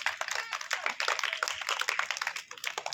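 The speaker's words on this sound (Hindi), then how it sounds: "तो एक बार बच्चे अपने लिए ताली बजाएंगे" Schoolchildren of roughly primary to middle-school age clap for themselves at a community gathering, a quick scattered patter of many small hands that stays brisk and fairly close throughout.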